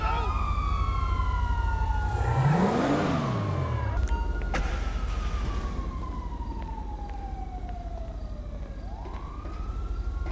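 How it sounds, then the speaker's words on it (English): Police car sirens wail in Grand Theft Auto, rising and falling in pitch as they pass close by, then trailing off more steadily under loud game ambience and engine noise. "The police sirens echo outside for a while, but slowly fade."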